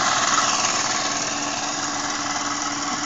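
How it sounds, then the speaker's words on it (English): A small steam engine drives its piston and flywheel, which turn a DC motor. It makes a steady, close mechanical hum and whir throughout, with no voices. "the pressure is causing the piston to push out and turn the flywheel"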